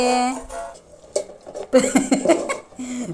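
A dog licking a metal frying pan up close, producing short scraping licks and light clinks of the pan in uneven bursts, with a brief voice-like whine at the start.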